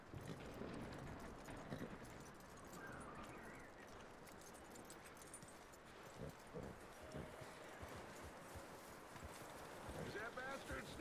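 Horse hooves clip-clop steadily across the ground in Red Dead Redemption 2, mid-distance and moderately loud, joined by wind and a faint murmur of voices.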